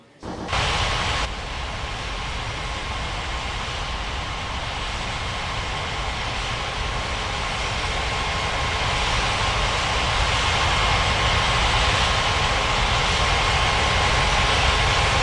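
An airliner comes in to land in an air traffic control video game, a loud, steady jet engine roar that starts abruptly and swells slightly over the length of the clip.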